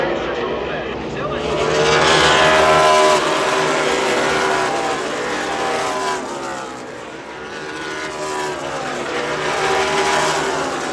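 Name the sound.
NASCAR Xfinity race cars passing at COTA turn 12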